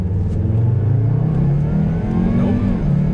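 Volvo S60R car accelerating from a stop while testing for front wheel spin, engine note rising steadily and loud up close, with a continuous rumbling drone throughout.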